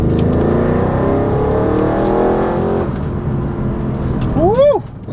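An Audi RS7 accelerates hard with a loud, close engine note whose pitch climbs, drops at a gear change, and then climbs again, ending with a brief high sweeping whine.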